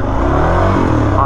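Suzuki DR-Z400 dirt bike engine accelerating on a sandy, rocky trail, a loud, close, rough engine roar rising briefly in pitch.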